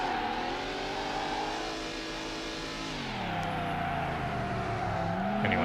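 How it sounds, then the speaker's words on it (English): A red Dodge Viper in Need for Speed: Hot Pursuit 2 revs hard on the Alpine course, its loud engine note climbing, dipping through a gear change, then rising again with faint tire squeal. "I'm closing in on the leader in my red stripeless Dodge Viper"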